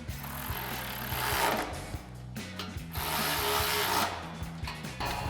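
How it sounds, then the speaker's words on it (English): Ratchet with a 13mm socket tightening bolts on a Body Armor Ambush XT front bumper being installed on a 2010-2018 RAM 2500 4x4, a steady rapid clicking of the pawl running continuously at close range with brief pauses, no talk. "grab our 13mm socket on our ratchet and a 13mm wrench to tighten these down"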